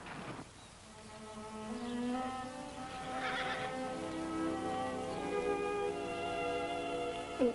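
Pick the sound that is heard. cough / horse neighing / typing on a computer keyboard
horse neighing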